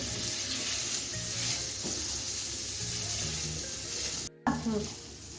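Potatoes frying in ghee in a pan, a continuous close sizzle with scraping stirring strokes and a brief clatter near the end, no talk.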